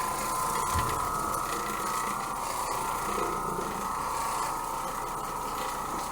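An Oreck Orbiter floor machine scrubs a floor with a wet rag or bonnet. Its steady motor whine and rattling mechanical drone run loud and constant throughout, with no one talking.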